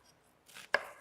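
A single sharp knife chop through an onion end on a cutting board in a home kitchen, preceded by a soft scraping rustle, close and crisp with no talking.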